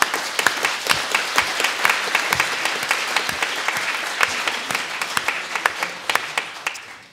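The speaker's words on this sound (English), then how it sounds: "And could you give her a round of applause?" Applause from an audience at an ombudsman open meeting in London, a room of individual claps heard distinctly and fairly close, steady throughout and fading slightly toward the end.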